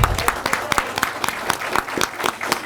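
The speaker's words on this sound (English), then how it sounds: "give you a nice round of applause" A small audience at a bookmark competition awards event applauds teachers who stand up, with distinct, close individual claps in an uneven rhythm rather than a dense roar.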